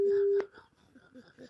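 A telephone call being placed to a home in Vitré, Ille-et-Vilaine gives one steady ringing tone that cuts off abruptly, followed by people talking.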